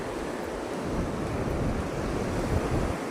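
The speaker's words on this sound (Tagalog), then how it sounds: "Malakas yung alon niya. Malaki yung alon" Heavy sea waves roar and wash continuously near a sea cave, loud and close, mixed with gusting wind buffeting the microphone.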